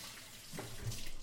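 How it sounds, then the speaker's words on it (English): Water runs from a kitchen faucet while hands are rinsed under it, a soft close splash that swells toward the end. "Let me rinse my hands off."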